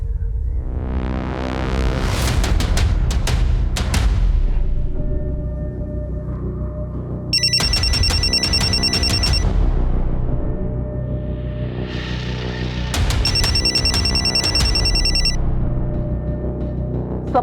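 A telephone rings in repeated electronic bursts, loud and near, with steady ringing tones in separate spells and pauses between them; no one speaks.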